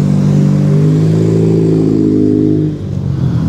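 An Alpine sports car at a New Year's Eve car gathering on Mont Ventoux holds a loud, close engine note that climbs slightly, then dips briefly near the end before steadying again.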